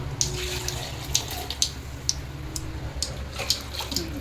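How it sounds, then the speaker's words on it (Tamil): Dirty water is poured out in an outdoor home kitchen while fish curry cooks, giving a steady faint splashing gush with scattered sharp drips and clinks over several seconds. "அழுக்கு தண்ணி ஊற்றுறான்."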